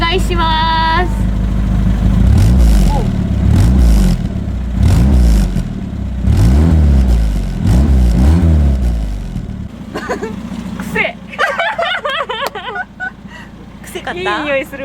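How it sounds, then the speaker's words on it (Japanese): A Toyota Starlet engine idles and revs with an exhaust leak, giving a loud rough chuffing rhythm with repeated rises in pitch, then settling lower while people talk over it. "ちょっとね、今排気漏れの音になってる。"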